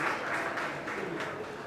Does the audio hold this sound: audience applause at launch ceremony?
yes